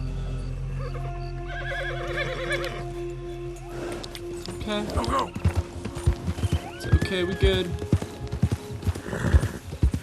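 A frightened horse whinnies and its hooves clip-clop on the ground in Red Dead Redemption 2. The neighs are loud and close, with irregular hoofbeats growing busier toward the end, and someone talks briefly over them.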